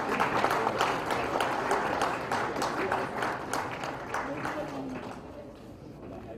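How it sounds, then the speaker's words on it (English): Audience at a felicitation event for the new Censor Board chief applauds, a sustained bed of many hands clapping with faint voices underneath, slowly tapering off. "a huge round of applause, ladies and gentlemen"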